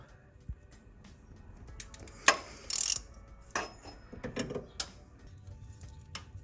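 A timing belt tensioner cam lock being undone on a 1998 Nissan Pathfinder V6, heard as sparse close clicks and metallic ratcheting knocks with a few louder rattling bursts in a quiet garage.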